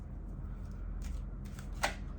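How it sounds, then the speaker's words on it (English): Tarot cards being shuffled, a quiet riffle and flutter of cards with a soft snap near the end, faint and close. "Okay, last shuffle."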